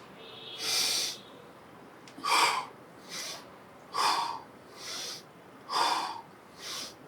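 Forceful breaths during bodyweight squats, one after another in a steady rhythm, close and fairly loud with no talking: several sharp exhales, each followed by a softer breath in.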